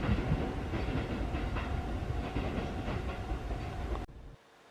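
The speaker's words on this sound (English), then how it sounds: "electric multiple unit." Close, loud rolling rumble of a 5-car electric multiple unit train in Mishima, Japan, wheels clattering steadily over the rails before the sound cuts off abruptly near the end.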